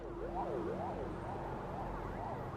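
An ambulance siren wails steadily in a remote part of a city, its rising and falling tone carrying at moderate distance over a low rumble.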